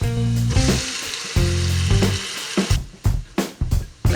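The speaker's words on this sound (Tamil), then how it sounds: "தக்காளி நல்லா வெந்து உடையிற அளவுக்கு நம்ம இதை வதக்கிட்டு இருக்கணும்." Chopped tomatoes frying with ginger-garlic in a pan for a green peas kurma: loud, close sizzling broken by scraping stirs and bursts of spatula strokes toward the end.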